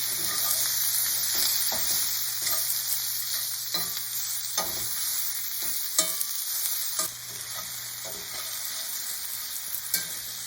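Sausages sizzle and fry in a pan, browning under a constant bright hiss with occasional stirring scrapes and pops, close up and with no talking.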